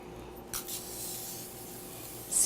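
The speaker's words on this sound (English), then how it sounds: "Spray your pan, baking pan, just a nice good spray." A steady hiss of aerosol cooking spray onto a baking pan with a couple of stronger puffs, close by, with no one talking.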